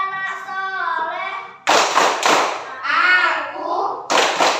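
Schoolchildren in an Islamic classroom clap in sharp bursts for the tepuk anak soleh chant, several loud group claps separated by a teacher's and children's sung or spoken lines.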